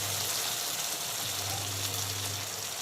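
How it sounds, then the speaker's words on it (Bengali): Hot water pours into a pot of sola kochu and chara bhetki fish curry, a steady close rushing splash with a low gurgle running unbroken throughout. "এখন দিয়ে দেবো কিছুটা গরম জল।"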